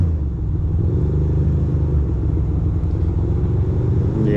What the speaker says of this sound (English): It's a cute little Porsche.